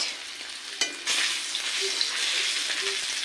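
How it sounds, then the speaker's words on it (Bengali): Fish coated with turmeric and salt fries in hot oil, giving a steady close sizzle with a brief louder crackle near the start and faint clinks, no voices. "মাছটা চলো ভাজা হোক"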